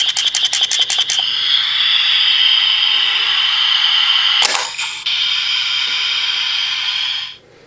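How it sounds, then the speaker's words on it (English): Loud fizzing hiss from a DX RabbitTank Sparkling toy bottle after its top tab is pulled, opening with rapid clicks, then a sustained effervescent spray broken by a sharp burst midway, cutting off near the end. "the sound of all that fizz being released"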